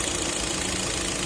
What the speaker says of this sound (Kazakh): Қыздырып жатырмыз көлікті.